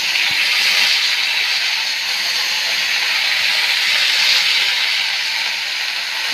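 Yardlong beans hit hot oil with browned garlic, giving a loud, steady sizzling hiss that stays even and continuous throughout, close up and with no talk.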